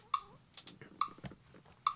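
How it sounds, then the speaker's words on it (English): Metronome ticking at 70 beats per minute, three crisp evenly spaced clicks roughly 0.85 seconds apart, clear and close over a quiet background. "we're going to bring up a metronome here as an example"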